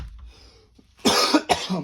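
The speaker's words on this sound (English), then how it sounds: "Sorry about all the coughing." Two loud, harsh coughs close by, the first a drawn-out burst and the second shorter, following a quiet stretch with faint rustling.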